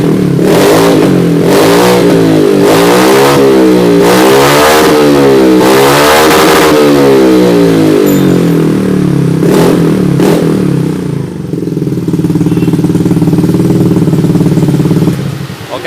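A Yamaha Mio J scooter engine, freshly cleaned injector and throttle body, revved repeatedly up close: loud rising and falling bursts of throttle, then a steadier high idle before dropping off.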